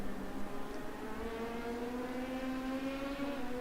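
A V8 race car engine in a racing game at a charity endurance race on an oval, droning steadily at high revs with a smooth, constant buzz and slowly rising pitch, no voices.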